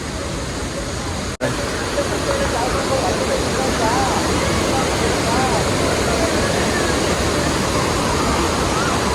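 Hogenakkal waterfall thunders nearby as a loud, broadband rushing roar that runs steadily throughout, with a brief dropout near the start.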